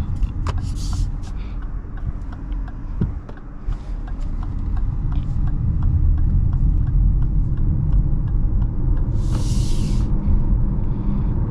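A 2024 Lexus RZ300e electric car gliding along the road, its cabin filled with a steady low rumble of tires and road noise that swells slightly partway through, with a few faint clicks and brief hissy bursts on top.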